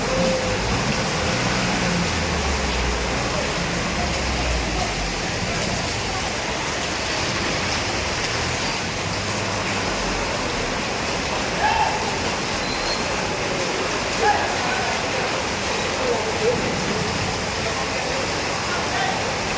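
Floodwater rushes in a continuous, loud, broadband roar like heavy rain or a waterfall, with faint voices in the background.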